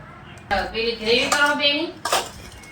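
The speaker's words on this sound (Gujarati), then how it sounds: "આને આપણે ચમચીથી હલાવીને મસ્ત કરી દઈશું" A spoon scrapes and clinks in a pot while salt and garam masala are stirred into the food, a few short metallic knocks. A voice talks over the stirring.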